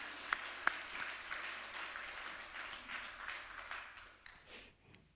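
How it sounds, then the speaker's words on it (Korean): Scattered applause from a church congregation during a Sunday afternoon service, faint and diffuse, with a couple of sharper isolated claps near the start and the clapping thinning out toward the end. "박수 한번 하겠습니다."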